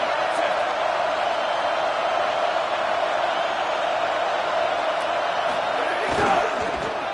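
A home stadium crowd at a college football game, Arizona State at Florida State, fills the air with a steady, dense roar that swells slightly near the end, with faint talk underneath.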